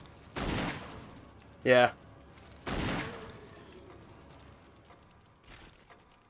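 Barry Burton fires a hand cannon at a zombie in the Resident Evil video game: three loud, separate gunshots spaced about a second apart, with faint game ambience and a brief voice between them.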